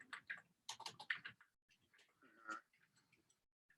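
Faint clusters of clicking keystrokes on a computer keyboard during a live stream, irregular quick bursts separated by short pauses, quiet and close.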